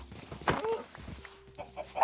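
Minecraft chickens cluck in short, scattered bursts close by, mixed with soft in-game footsteps and a brief thump, fairly quiet overall.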